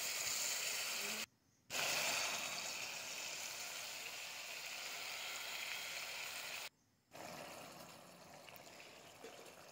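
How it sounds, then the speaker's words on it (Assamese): Fish curry with fried potatoes, spice powder and tomato paste boiling in a pan, giving a steady faint bubbling hiss broken by two brief silent gaps. "এয়া দেখিছে নহয়, উতলি আছে"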